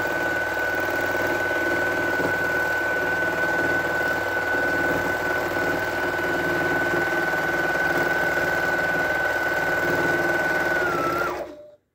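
Janome 1600P DB long-arm sewing machine stitching steadily on a 10 ft Hinterburg quilting frame, a loud continuous whirring hum with a steady high whine that runs unbroken for about eleven seconds before stopping abruptly.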